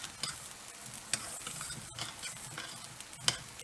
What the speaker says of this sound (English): our rice is beginning to brown